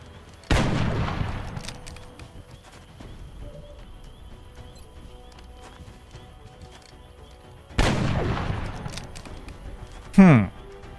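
Gunfire from the XCOM Long War video game, two heavy shots with long decaying tails several seconds apart, followed by a brief whooshing effect, over a quiet game background.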